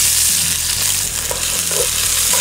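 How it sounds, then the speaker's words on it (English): Loud, continuous crackling sizzle of hot oil in a pan, readied for browning onions, with a faint low hum underneath. "put a little bit of water in there and you hear that sizzle,"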